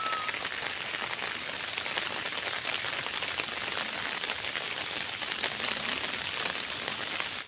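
Heavy rain pours steadily on surfaces near Gorai mountain jungle, a dense unbroken hiss at constant loudness throughout.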